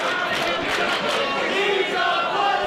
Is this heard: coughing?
no